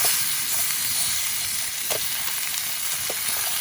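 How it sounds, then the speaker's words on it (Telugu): Chicken frying in oil in a pan at a rainy night campsite, giving a loud, steady sizzle with a broad hiss and a few pops, continuous throughout with no voices. "దాదాపు చికెన్ అయితే అయిపోయినట్టేనండి, తెగ వేపేసాను అనమాట."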